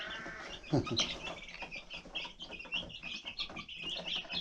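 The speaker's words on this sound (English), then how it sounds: "That's some happy birds right there." Busy, overlapping high-pitched chirping from many chicks, steady throughout with a brief louder flutter near the start.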